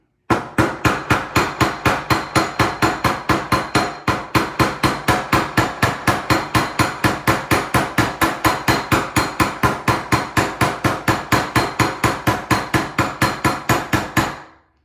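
Rapid, steady metal hammer blows flatten a silver SilverSilk wire-wrapped pendant, dozens of sharp, loud, closely spaced taps in an even rhythm with a brief pause partway, no voices.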